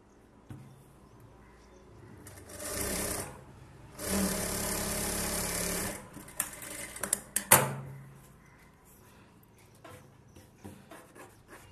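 A sewing machine stitching lining into a pot neck blouse whirs in two short bursts, the second longer, followed by scattered rustling and handling sounds of the fabric at close range.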